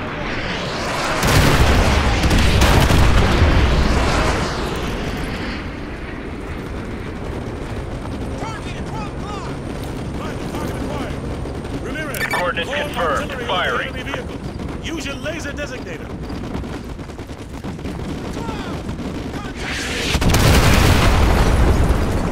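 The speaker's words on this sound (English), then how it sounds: "Fire mission received. Artillery inbound." Artillery shells slam down in Call of Duty: Modern Warfare 2 Remastered, with heavy rumbling booms at the start, a stretch of quieter battlefield noise and radio chatter, then another deep blast near the end.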